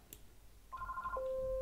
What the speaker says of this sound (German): Bei mir klingelt das Telefon.